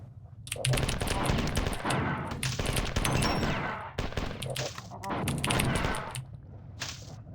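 Rapid automatic gunfire from the classic PC shooter Marathon 2, loud and dense in sustained bursts with brief gaps between volleys, plus a few sharper blasts.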